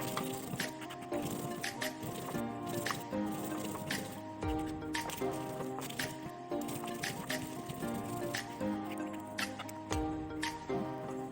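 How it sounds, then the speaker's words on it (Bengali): Cumin, green chili and ginger are ground into a wet spice paste for Bengali dhokar dalna, making steady, rhythmic squishing strokes that repeat throughout at a moderate level beneath continuous background music. "মশলাটাকে আমি বেটে নিচ্ছি।"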